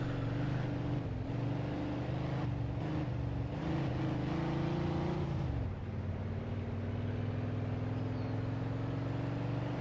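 BMW M5 E60 driving in the video game Mafia II, its engine humming loud and steady, revving higher and then dropping sharply midway as it shifts and settles into a lower drone.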